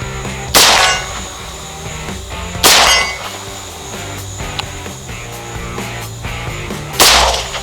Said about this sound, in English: We're gonna run some rounds onto a known piece of substandard steel.